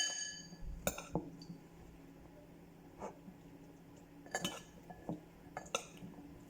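Cutlery scrapes and clinks against a bowl while pasta cooked in the microwave is stirred, giving a few sharp, close metallic taps scattered among quieter rustling over several seconds.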